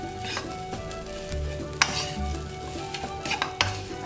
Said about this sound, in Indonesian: Kita aduk lagi sampai rata.